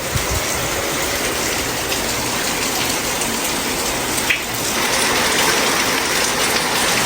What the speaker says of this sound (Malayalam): നോക്കൂ നല്ല മഴ ഉണ്ട്